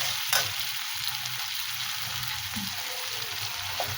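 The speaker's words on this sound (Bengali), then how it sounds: "মশলা রেডি করে এবার ট্যাংরা মাছগুলো আমি এর মধ্যে দিয়ে দিলাম" Tengra fish sizzle as they fry in a spice masala, making a continuous, close crackling hiss broken by a stirring scrape near the start and a faint clink later.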